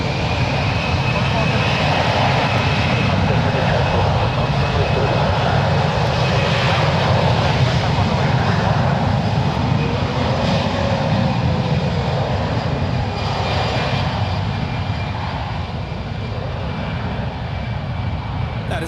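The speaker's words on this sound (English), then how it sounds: "That is Alaska 271 departing to Portland. It's a 10-year-old Airbus A320." A ten-year-old Alaska Airlines Airbus A320 departs San Francisco International Airport with a loud, sustained jet engine roar, while voices talk over the steady rumble.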